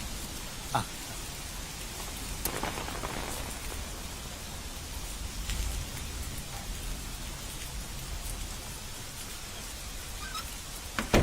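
Steady rain falls continuously on a lazy Sunday evening, a dense even patter of drops on surfaces with no voices.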